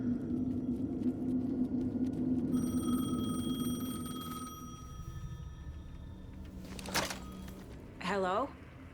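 A payphone rings with a steady electronic tone in the video game Alan Wake 2, heard over a low ambient rumble and followed by a brief ringing burst; a voice speaks around it.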